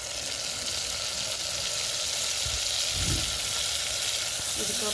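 Tamarind water poured into a hot pan for an anchovy fish curry, hissing and sizzling in a steady broad wash for several seconds, with a few low stirring bumps near the middle.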